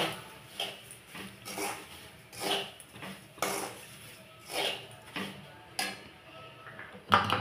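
A spoon scraping and stirring fried semolina through fried potatoes in a pan: a regular series of distinct scrapes and clinks, roughly one every second, close by with a quiet background.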